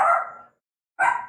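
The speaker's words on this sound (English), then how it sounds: "what are you barking at?" A dog barks twice, close by, with a short silent pause between the two sharp barks.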